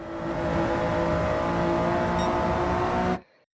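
A Toyota Yaris engine in a racing video game, held in third gear, revs high and steady at a sustained drone for about three seconds before cutting off abruptly.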